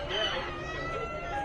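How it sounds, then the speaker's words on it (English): Roosters crowing inside an animal tent at a county fair 4-H exhibit, a steady mix of crowing and clucking with crowd murmur underneath throughout. "We have roosters."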